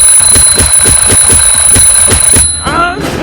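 An alarm clock rings loudly in a rapid repeating pattern of bright metallic bursts for over two seconds, then stops abruptly as other sounds take over.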